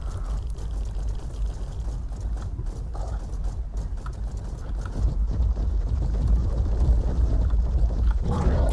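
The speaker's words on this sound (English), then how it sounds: "I like the sound of its claws." Rapid clicking and clattering of a Rock Drake's claws on a hard surface in ARK: Aberration, steady and close, over a low rumbling background.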